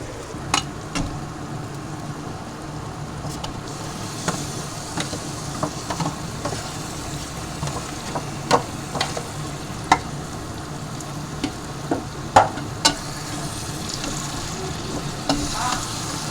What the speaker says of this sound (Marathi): आणि आता हे फोडणीला देऊया आपण.